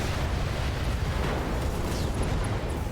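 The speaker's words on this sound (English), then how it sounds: "No, the ammo explosion" An ammunition explosion in a video game, a sustained loud, rumbling roar of low-end blast noise filling the whole moment without letup.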